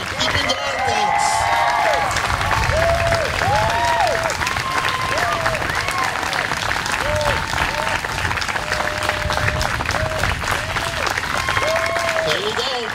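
Steady, loud applause from an audience at a youth poetry event, clapping continuing for the whole stretch with cheering and crowd voices mixed in.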